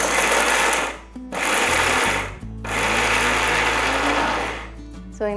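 A mixer grinder coarsely grinds amla (gooseberry) chutney in three loud, close bursts of whirring motor, each stopping briefly before starting again, with a short clatter at the end.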